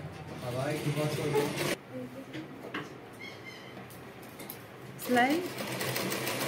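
A sewing machine runs in quick, steady bursts while stitching a churidar neckline, close and clear, with a pause in the middle and people talking over it.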